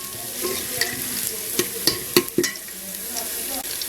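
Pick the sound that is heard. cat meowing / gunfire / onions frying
onions frying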